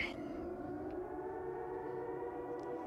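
A steady wailing siren in a video game holds a sustained tone, fairly faint and distant, with a low background hum.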